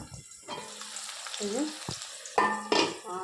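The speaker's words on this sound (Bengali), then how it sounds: "এতে হচ্ছে পটল ভাজা" Oil sizzles and crackles in a pan as pointed gourd fries and is stirred, with scraping and clattering of a utensil against the pan.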